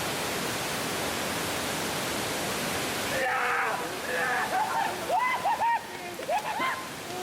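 Panther Creek Falls waterfall roars as a loud steady rush of falling water, which drops off partway through as voices and shouts come in over a quieter background.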